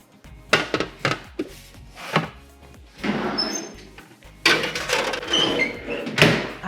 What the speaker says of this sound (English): I'm gonna put this in the oven behind me